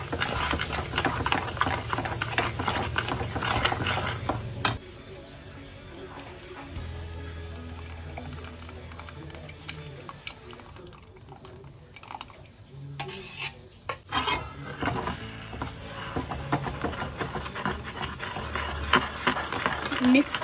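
Jaggery and tamarind pulp sweet chutney being stirred in a pot, a steady scraping and clinking of a spoon against metal running throughout, close and moderately loud, with a brief quieter stretch midway.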